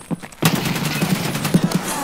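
Rapid bursts of gunfire in Escape from Tarkov, a short shot followed by a sustained automatic volley with distinct cracks and echoing tails, loud and close.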